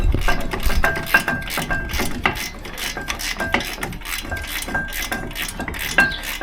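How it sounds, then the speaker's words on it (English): Rapid ratchet clicking at close range while tightening Brembo brake caliper bolts, 18 mm, on a Ford Focus RS, with bursts of metallic clicks repeating steadily across the whole stretch. "You're just going to nip them up with your ratchet."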